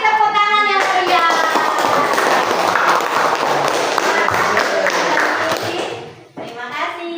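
Students in a classroom burst into loud, sustained clapping that fills most of the stretch before fading, with a teacher's and children's voices heard at the start and end.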